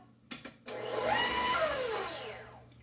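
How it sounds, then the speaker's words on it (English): An electric mixer whips butter for apple caramel blondies, starting with a couple of clunks and then rising into a steady whirring whine that slowly fades. "once your mixer has created this light, fluffy butter"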